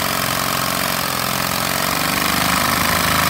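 Nitro-fuelled Lego butterfly engine screaming at high revs, a loud, close, rapid buzzing roar that stays steady and climbs slightly toward the end, with no talk.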